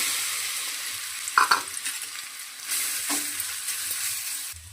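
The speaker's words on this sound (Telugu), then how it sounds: "ఇలా స్వీట్ పొటాటోను మధ్య మధ్యలో కలుపుతూ ఉడికించుకోవాలి." Grated sweet potato stirred in a pan over low flame, a spoon scraping and clacking through the mash with a soft frying sizzle beneath, close and fairly loud.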